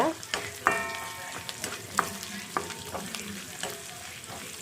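Shallots, ginger and garlic cloves sauté in a pan for crab masala, a soft sizzle under intermittent scraping and clinking of a spoon stirring, with no voices.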